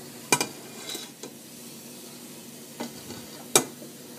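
Zucchini and chicken sizzle softly in a pan while a utensil stirs them. A few sharp scrapes and clinks rise over a quiet, steady frying hiss.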